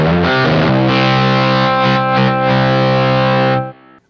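An electric guitar run through a small pedalboard with distortion and effects rings out in sustained, saturated chords that hold steady for several seconds, then cut off abruptly and fade into a brief tail.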